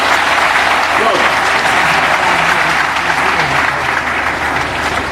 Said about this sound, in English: the President deserves a resounding applause, and please join me in doing so